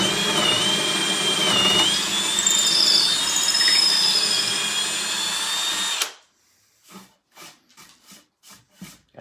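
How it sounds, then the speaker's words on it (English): A power drill bores through a wooden drawer front with a loud, squealing whine that runs steadily for several seconds, then stops, followed by a few short quiet knocks. "then you can go ahead and just drill right straight through."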